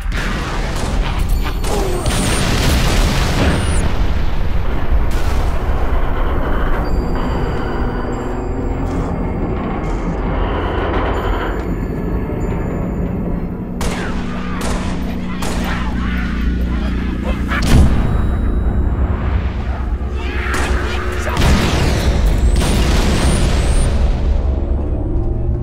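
Artillery final protective fire pounding in Halo Reach, a dense barrage of booming explosions and blasts over sustained rumble, loud and near, with brief voices in the mix.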